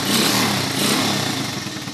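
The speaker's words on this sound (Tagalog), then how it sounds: "i-start natin yung motor para makita nyo" A motorcycle engine starts and runs steadily up close, a loud, continuous rumbling drone with a slight rattle throughout.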